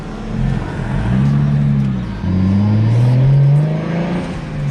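A BMW 335i running a new tune and upgraded ignition coils revs up loudly nearby, the engine note climbing in pitch, dipping briefly, then rising again in a sustained, whirring pull.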